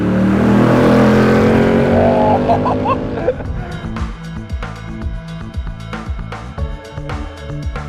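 A Ford Mustang Mach 1 V8 engine roars loudly through a rising rev, then drops into a choppy, burbling throttle blip pattern with sharp pops, close and dominant.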